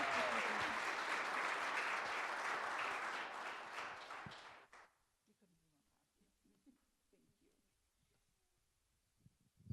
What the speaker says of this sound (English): big round of applause for Miss Becca.